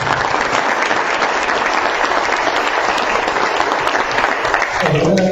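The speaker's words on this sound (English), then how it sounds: "Just an applause for Glenn." At a blockchain summit conference, the audience gives a speaker named Glenn loud, sustained applause. The clapping stays thick and even throughout and thins briefly at the very end.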